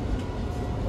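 Steady low rumble and hum of a Transport for Wales Class 230 train running, heard from inside the carriage on the Wrexham to Bidston line, continuous and even throughout with no talk.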